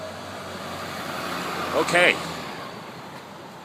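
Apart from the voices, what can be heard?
truck driving past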